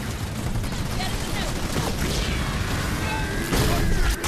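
Dense suppressing gunfire in the Halo Wars 2 video game, a loud continuous clatter of shots and impacts with a heavier thump near the end, under voices speaking.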